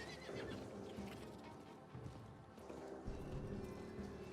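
A horse in the video game Diablo 4 neighs and whinnies over clip-clopping hooves and game background sounds, heard at low volume throughout.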